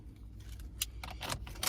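Car keys jangle in a vehicle at night: several bright metallic rattles and clinks come in short bursts close by, with faint engine hum beneath and no talking.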